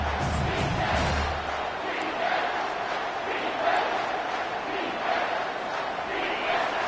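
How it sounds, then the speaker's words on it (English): A loud stadium crowd at a football game roars continuously on third down, a dense wash of cheering and yelling heard at a distance, with a commentator talking over it. "Third down, and this crowd is tearing the lid off this place."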